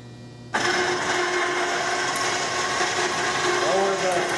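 Winch lowering a cart rack on a beverage truck body, starting abruptly after a brief quiet moment into a steady whirring mechanical drone that holds at even loudness with a faint rising whine near the end.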